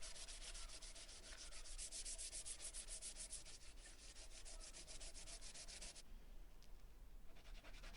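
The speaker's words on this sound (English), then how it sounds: "I gave it a final hand sanding. And I went round all the edges with the 240 grit sandpaper" Oak hammer handle being hand sanded with 240 grit sandpaper: steady, close rhythmic rubbing strokes that continue throughout and grow slightly quieter near the end, with no voices.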